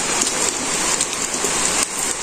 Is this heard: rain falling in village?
yes